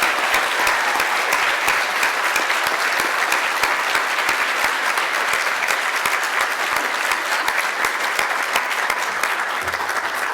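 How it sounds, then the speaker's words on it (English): Audience at a county bar association service awards ceremony applauding, a dense, even wash of clapping from a full room sustained for about ten seconds without a break. "So please, everyone, give her a big round of applause."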